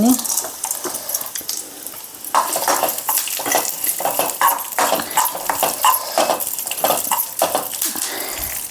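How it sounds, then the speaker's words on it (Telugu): Melon seeds frying in a pan for coconut-milk rava laddu: steady sizzling with repeated scrapes and taps of a spoon stirring against the pan, close by, with soft talk at times. "కొన్ని పుచ్చ గింజలు కూడా వేపుకుందాం కొద్దిగా"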